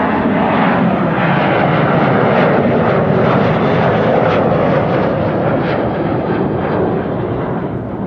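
A KLM airliner bound for Copenhagen roars down the runway on takeoff at Amsterdam Schiphol, a loud, steady broadband jet rumble that holds strong for the whole stretch with no talk over it.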